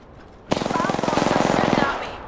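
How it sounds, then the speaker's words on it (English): Rapid automatic gunfire from enemies in a battle-royale style shooter video game, a loud sustained burst of evenly spaced shots lasting over a second, then cutting off abruptly. "Bad boys are shooting at me."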